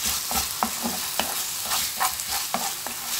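Small chicken pieces and onion fry in oil in a pan, a steady close sizzle broken by a few sharp clicks of stirring at an uneven pace, with no voices.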